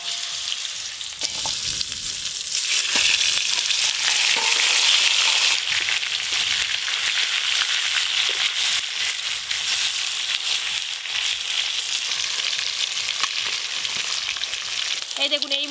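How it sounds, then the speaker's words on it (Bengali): Pieces of a large fish fry in hot oil in a pan, with a loud, continuous crackling sizzle that holds steady throughout and no talking. "বাকি মাছগুলো একই রকম ভাবে ভেজে নেব।"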